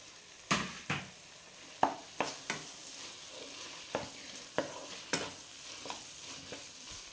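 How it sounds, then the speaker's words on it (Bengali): Grated paneer being stirred into bhurji in a pan, the spatula scraping in a string of sharp, distinct strokes over a faint sizzle, with no one talking. "এবার এই পনিরটা এর ভেতরে মিশিয়ে দিলাম।"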